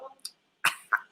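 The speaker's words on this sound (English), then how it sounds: "Scared to cough nowadays." A person coughs a couple of times in a kitchen setting, two short, fairly loud bursts close by after a brief scrape and a quiet pause.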